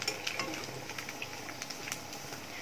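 Pakoda-style snacks frying in hot oil in a home kitchen, with a steady close sizzle and bubbling and a few faint clinks of a utensil, and no talk.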